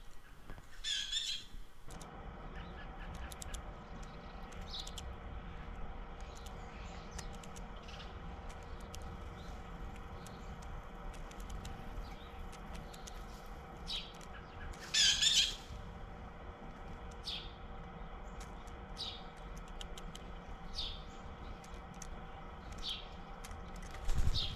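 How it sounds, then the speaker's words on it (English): A blue jay at a backyard bird feeder gives two short, harsh squawks, one near the start and a louder one midway, over a steady low outdoor hum with faint chirps from other birds. "then the blue jay comes in, and he's probably the most aggressive of all"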